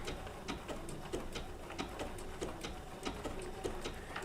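Bernina B790 PRO sewing machine with an open toe foot stitching a wool applique, a steady mechanical whirr with rhythmic clicking repeating about every two-thirds of a second, close and moderately quiet, no talking.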